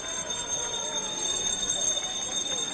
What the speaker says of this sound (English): Lots of bells means lots of final 100 meters.